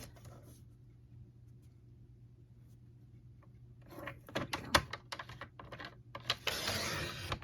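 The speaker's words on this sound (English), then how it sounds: "for our paper trimmer, we are going to cut, our Balmy Blue is going to be our card base" A paper trimmer slices blue cardstock down to a card base at a crafting desk: after a quiet stretch, a burst of sharp clicks and taps ends in a close, rasping slide of the blade.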